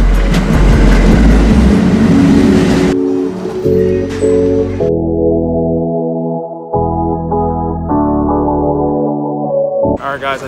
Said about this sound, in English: Guys, I just got off the train.